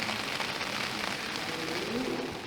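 Rain falls steadily on a street in the medieval pilgrimage town of Figeac, France, a close, continuous hiss and patter with faint voices in the background.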